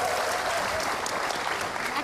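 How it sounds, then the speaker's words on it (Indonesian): Studio audience on the Empat Mata talk show applauding for a guest named Widi: brief, dense, continuous clapping at full strength throughout, with faint voices mixed in. "tepuk tangan dong untuk Widi"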